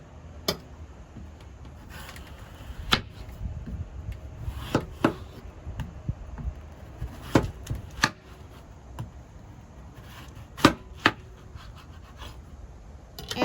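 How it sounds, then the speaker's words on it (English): Knife slicing a watermelon piece on a cutting board, a dozen or so sharp irregular thuds and taps against the board over faint background noise, close up with no talk. "flip it over, and cut it into slices."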